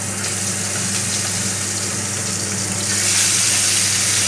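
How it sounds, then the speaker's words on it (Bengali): Prawns marinated in salt and turmeric fry in hot oil, giving a loud, steady hiss and sizzle with no break, swelling a little louder near the end. "চিংড়ি মাছটা ভালো করে আমি ভেজে নেব"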